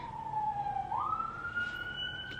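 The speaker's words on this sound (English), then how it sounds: "I love that police siren in the background. I think it's ambulance actually." An ambulance siren wails in the distance with a steady, continuous tone that dips and then rises again, faint in the background behind indoor room noise.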